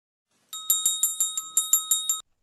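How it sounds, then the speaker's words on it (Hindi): A bright metallic school bell rings in quick, even strikes, about ten rapid dings in a row, clear and close, then stops. "इंटरवल खत्म होने की घंटी बज चुकी थी।"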